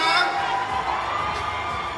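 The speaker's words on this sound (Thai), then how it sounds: "ขอบคุณนะครับขอเสียงปรบมืออีกครั้ง" Crowd at a Bangkok press conference for a concert world tour, cheering and whooping with some clapping, a lively mix of raised voices and shouts that carries on briefly before easing slightly.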